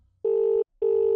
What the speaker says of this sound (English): So I pull out my phone and I dial 411.